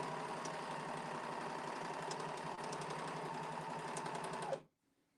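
Serger sewing machine stitching and trimming excess fabric, a steady fast mechanical whir with dense rhythmic needle and blade chatter running continuously, then stopping abruptly near the end.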